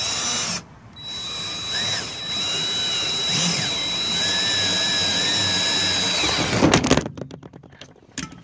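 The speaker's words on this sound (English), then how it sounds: "Awesome drill, by the way." A DeWalt 20-volt cordless drill whirs steadily at close range for several seconds, then winds down and stops with a few rattling clicks.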